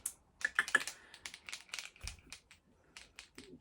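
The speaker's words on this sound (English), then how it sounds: "you would do this on the paper until the ink starts flowing into the nib" Posca paint marker nib pumped against paper to start the ink flowing, a quiet series of close, irregular taps and clicks with soft papery rustle.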